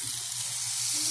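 Hot cake batter sizzles steadily in hot margarine in a pan, a close, continuous crackling fry with no voices.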